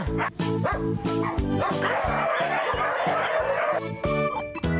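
Over 250 dogs barking at once in a dense, overlapping chorus of rapid barks and yips, close and loud, with no speech.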